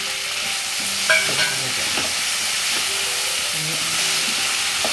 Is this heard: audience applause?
no